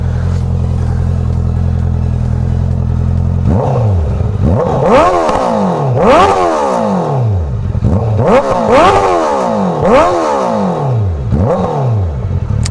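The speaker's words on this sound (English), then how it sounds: "maybe I'll give this baby a couple revs for everybody." A Honda CBR650 motorcycle idles with a low rumble, then its engine is revved sharply about six times. Each rev is a loud, close rising roar that falls back between blips.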